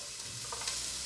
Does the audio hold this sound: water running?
no